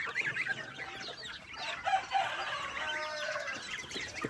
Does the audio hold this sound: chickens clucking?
yes